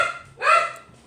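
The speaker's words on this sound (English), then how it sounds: "These are my dogs that are barking." A single close dog bark rising sharply in the middle of a short stretch, loud and harmonic, with faint background noise before and after.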